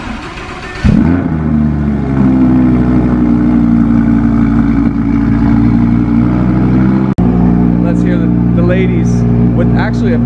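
A supercar fitted with a Fabspeed exhaust cold-starts with a sharp burst, then settles into a loud, steady, throbbing idle close by, briefly interrupted once, with faint talking over the engine near the end.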